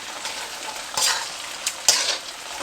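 Fried rice sizzles hard in a pan while chilli chicken is tossed in, and a couple of louder bursts of stirring scrape through the steady frying. No voices are present.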